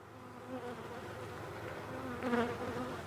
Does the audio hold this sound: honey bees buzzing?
yes